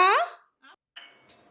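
A voice calls out briefly, then a few light metallic clinks and clatters of steel pots and pans follow, fairly quiet and scattered.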